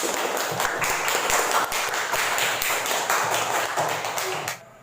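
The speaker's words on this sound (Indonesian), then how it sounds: "tepuk tangan dulu untuk kelompok 3" A classroom of students claps for a presenting group, giving a dense burst of fairly close hand claps that run steadily for several seconds before cutting off.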